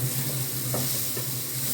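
Steady sizzling of mixed vegetables frying in a pan, with a couple of brief stirring scrapes, continuous and close, no voices.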